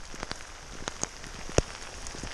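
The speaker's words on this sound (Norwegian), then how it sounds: "Men nå regner det sykt mye, altså." Heavy rain falls during an outdoor trek in Norway, a steady hiss of drops pattering on surfaces with scattered louder individual hits, one sharp close splat standing out; no talking.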